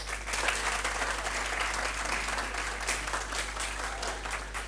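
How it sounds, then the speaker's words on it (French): An audience at a high school competition event applauds the accompanying school officials, a continuous wash of many clapping hands filling the room evenly for nearly five seconds beneath a steady low hum. "Est-ce qu'on peut applaudir pour eux, s'il vous plaît?"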